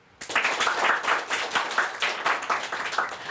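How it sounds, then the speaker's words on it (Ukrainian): Audience applause for participants, jury and crew at a Ukrainian-language word game event: dense, steady clapping from many hands that starts abruptly and carries on evenly at moderate loudness without speech. "Наші оплески учасникам, журі і команді"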